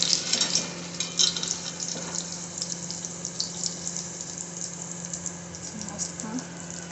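Vadas deep-fry in hot oil, a constant bubbling crackle with intermittent bursts of spitting, close and moderately loud, running alone without speech.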